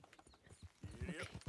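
Horse hooves clip-clopping in Red Dead Redemption 2, a quick rhythmic string of hoof knocks that grows louder partway through and stays fairly faint overall.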